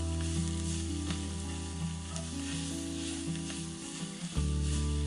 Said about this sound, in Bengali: মশলা অনেকটা ভাজা ভাজা হয়ে গিয়েছে